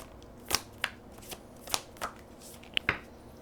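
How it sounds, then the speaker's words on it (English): Tarot cards are shuffled and snapped in a series of quick, crisp riffles and taps, close and fairly quiet, with short pauses between. "let me just shuffle one more time"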